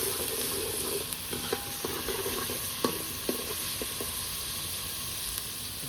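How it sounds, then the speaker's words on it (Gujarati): Onions fry in hot oil with a continuous close sizzle, marked by small scattered pops and clicks of the pan throughout, and no one speaking. "ડુંગળી પકાવવાની"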